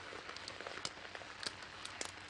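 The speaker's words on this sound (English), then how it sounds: "the sheets of rain continued to pour relentlessly" Heavy rain pouring steadily in the Wii video game Fragile Dreams, a faint even hiss with scattered droplet taps.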